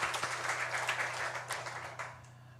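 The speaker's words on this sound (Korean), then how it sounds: "우리 하나님께 영광의 박수 올려드리겠습니다." A church congregation at a Korean Sunday worship service applauds with a brief burst of dense, steady clapping that fades slightly toward the end.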